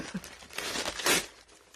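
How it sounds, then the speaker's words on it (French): Wrapping paper being torn and crinkled up close, a rough ripping sweep lasting about a second with crackly rustles around it. "je suis obligée de déchirer le papier"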